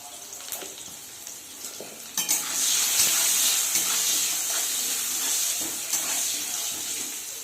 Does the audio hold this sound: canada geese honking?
no